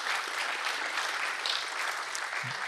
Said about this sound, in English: So I would like to get an applause also for this BruCON badge